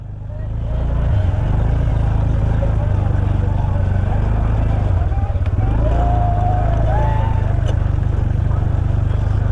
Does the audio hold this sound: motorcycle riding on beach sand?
yes